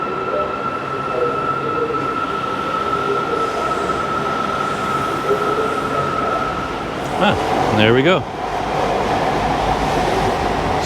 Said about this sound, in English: If there happened to be a train coming